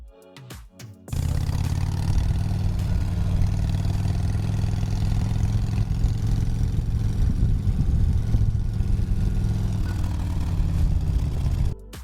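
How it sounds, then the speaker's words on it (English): A motorcycle engine runs steadily at a mid pitch, holding a constant drone for about ten seconds before cutting off abruptly. "look for a sound effect for a motorcycle. Just type motorcycle ride"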